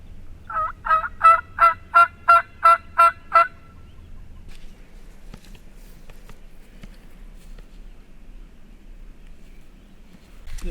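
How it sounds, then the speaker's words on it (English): A wild turkey tom gobbles on public land in Nebraska, a rapid run of about seven loud, rhythmic calls, followed by quiet outdoor ambience. "Is that a gobble?"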